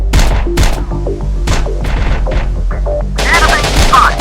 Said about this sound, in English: Enemy fire.